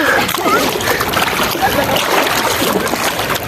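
Loud, continuous rush of seawater splashing and churning close by, a broad steady wash without pauses.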